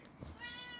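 A faint, short cat meow rises briefly out of quiet background noise.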